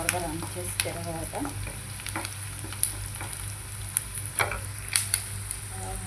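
Spices sizzle in hot oil as tempering for a brinjal and dried fish curry, under a low steady hum, with sharp spattering pops and occasional stirring scrapes close by.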